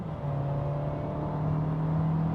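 A VW Tiguan 1.4 TSI 160 hp in sport mode under full throttle gives a steady, rising engine drone heard from inside the car for a couple of seconds, with no talk.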